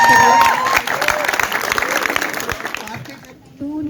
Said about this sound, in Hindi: उनके लिए जोरदार तालियां बजा के आप लोग स्वागत करिए।